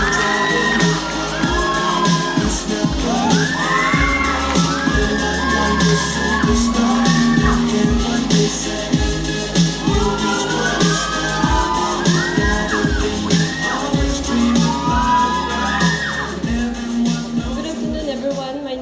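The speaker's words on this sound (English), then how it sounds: "Gentlemen, a round of applause for our next contestants from the Department of Library" Audience at a college fresher's day cheering, whooping and shouting for contestants, a loud, sustained crowd roar with many overlapping voices and scattered claps.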